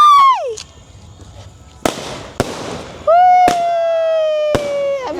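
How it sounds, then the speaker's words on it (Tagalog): New Year's Eve fireworks going off close by: sharp separate bangs and pops with whistling rockets rising and falling between them. People react and cheer in the background. "Fireworks talaga siya."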